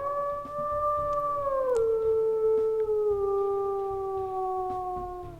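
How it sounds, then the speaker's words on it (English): A wolf howls in the video game WolfQuest: one long, clear, sustained tonal howl that slides downward in pitch in steps, loud and close, over a faint low background hum. "Same howl as, same primary howl as Tarantula."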